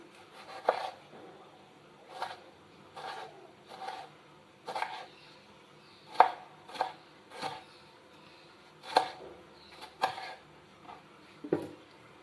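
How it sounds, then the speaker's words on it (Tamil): A knife cuts tomatoes on a board in a steady, unhurried series of soft thuds, roughly one every second, quiet and close with a low background hiss. "தக்காளி கட் பண்ணிக்கிறோம்"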